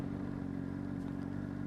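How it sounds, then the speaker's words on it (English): A Honda CBR600RR motorcycle coasting with the clutch pulled in, its engine holding a steady, loud, close idle hum with a little wind rush and no revving. "I'm going to grab the clutch and show you how long it takes to slow down"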